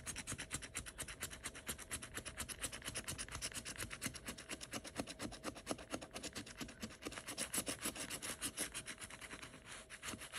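Fast, rhythmic rasping strokes of a coin or fingernail scratching a lottery scratch-off ticket, close and faint, continuing without pause and with no talking.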